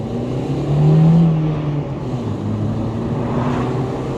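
A Honda Civic with VTEC, bought at auction after sitting 15 years, accelerates from 0 to 40, the engine note rising and swelling loudly early on and then droning on steadily from inside the cabin, no talk.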